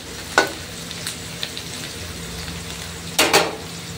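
Onions frying in oil in a pan, a soft continuous sizzle with a couple of brief stirring scrapes against the pan, heard fairly close with no talking.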